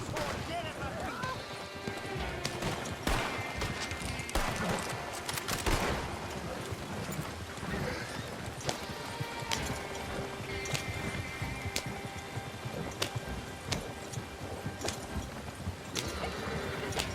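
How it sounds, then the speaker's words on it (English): Horse hooves clip-clop in a busy Red Dead Redemption 2 Online fight scene, mixed with gunfire, crashes and character voices in a dense, continuous game soundscape. "I want this horse dead at my feet."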